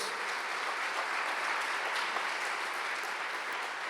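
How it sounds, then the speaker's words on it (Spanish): A church congregation breaks into steady, dense applause, a continuous wash of many hands clapping at moderate distance with no break. "dale otro fuerte aplauso a Dios"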